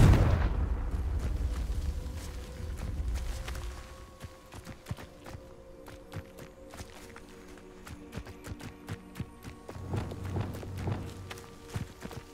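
A Confringo blasting spell in Hogwarts Legacy erupts in a loud, rumbling explosion that fades over a few seconds, followed by scattered sharp taps and footsteps with a second softer rumble near the end.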